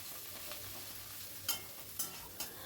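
Bitter gourd fried in a pan over a medium-to-low flame gives a steady, soft sizzle, with a few sharper scraping strokes from stirring near the end.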